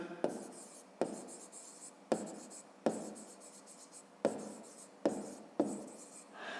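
A pen writes on paper in a Ukrainian fifth-grade maths exercise, producing a series of about eight quick scratching strokes, each starting with a sharp tap, close and fairly quiet.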